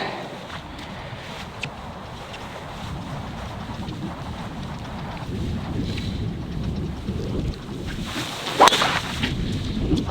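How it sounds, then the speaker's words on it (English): A driver tee shot on the course at Harleyford Golf Club gives a single sharp crack about two-thirds of the way through, heard over steady wind buffeting the microphone. "Okay, Wilbur's up. Driver in hand."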